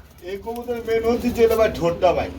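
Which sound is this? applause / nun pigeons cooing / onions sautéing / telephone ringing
nun pigeons cooing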